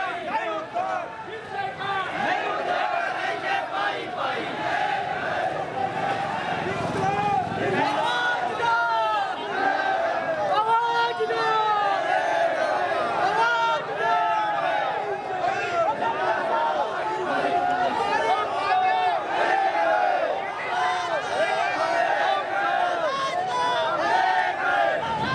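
A large crowd of striking cooperative society workers at a protest rally, raising a dense, continuous roar of shouting voices and chanting babble that carries unbroken throughout.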